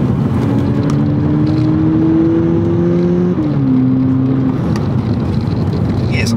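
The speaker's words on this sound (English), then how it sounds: "Engine makes quite a nice noise. A bit more pumped in under sports mode as well." The engine of a 2022 Volkswagen Polo GTI in sports mode drones loudly from inside the cabin, its pitch rising steadily under acceleration, then dropping at a gear change and climbing again.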